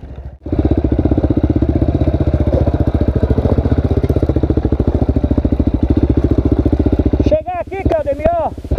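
A motorcycle descends a mountain road with its engine puttering in a fast, even pulse close by. Near the end the pulse breaks up and a voice-like warble rises over it.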